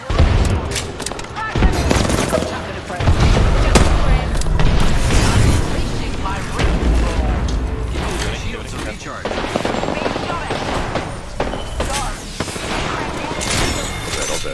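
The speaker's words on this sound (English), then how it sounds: "Grenade deployed!" Grenade blasts and heavy gunfire in a shooting video game: loud, booming explosions and rapid crackling shots packed densely throughout, with excited voices talking over the combat.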